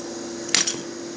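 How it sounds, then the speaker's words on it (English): A metal hose nozzle is tossed down and lands with a single sharp clink and a quick rattling bounce, heard alone over a faint steady background. "It's the metal nozzle, you can kind of throw it easily"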